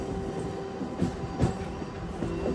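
Kacheguda–Raichur MEMU passenger train running through Telangana, heard from inside a coach: a low, steady rumble with a faint hum and a few soft knocks from the wheels.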